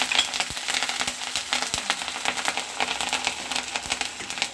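Curry leaves dropped into hot sesame oil with popped mustard seeds, for an egg gravy, give a steady close sizzle with dense crackling and small pops running throughout, without talk.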